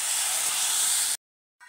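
Buttermilk hits a hot ghee-and-spice tempering of garlic and ginger for Khandeshi kadhi, giving a loud, steady broadband sizzle for about a second before it cuts off abruptly, then a faint hiss resumes.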